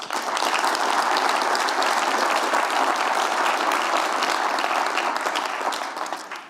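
Audience applause welcoming speaker Lynn Woodbury, dense sustained clapping from a full room, loud and even for several seconds before tapering off at the end.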